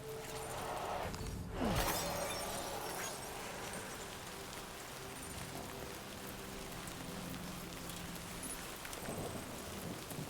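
Rain and rolling thunder in the video game Death Stranding 2, a steady wash of rainfall with a loud thunder crack early on, then continuous downpour with no talk.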